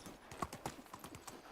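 Horse hooves clip-clop at an even walking pace in the medieval farming game Medieval Dynasty, a quiet run of regular knocks, faint and without talk.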